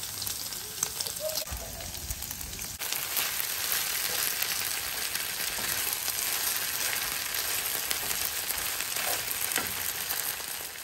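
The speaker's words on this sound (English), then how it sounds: "So I'm going to just cook the pork now and add the veg and everything" Pork and vegetables stir-fry in a pan, a soft continuous sizzle and crackle with occasional stirring scrapes, fairly quiet and with no talking.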